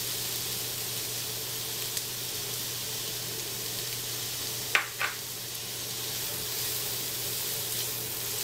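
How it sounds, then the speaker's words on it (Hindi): Chopped onion sizzles in a pan with cumin seeds, a steady broadband frying hiss with a low hum beneath and a couple of brief clinks partway through. "अब हमने प्याज को हल्का सा फ्राई करना है।"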